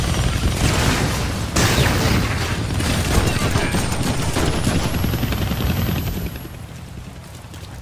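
Helicopter and heavy gunfire in the Deadpool video game, a dense barrage of rapid shots over a loud rotor roar, continuous and close before easing near the end, with a voice speaking through it.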